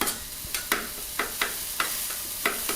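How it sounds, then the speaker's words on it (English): Metal spatula chopping thinly sliced Philly cheesesteak beef on a hot griddle, a steady run of sharp scraping clacks every fraction of a second over a continuous sizzle. "Time to chop it up now that it's been cooking for a little while."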